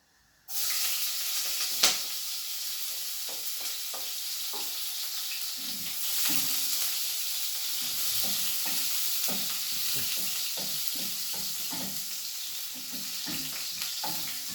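Onions sizzle loudly and continuously in a hot pan, with a steady bright hiss and occasional stirring clicks, close up and with no talking.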